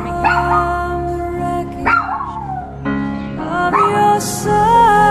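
A small puppy caged in an animal shelter yips and barks in sharp, high bursts broken by whimpers, close and loud, with a few short pauses between outbursts.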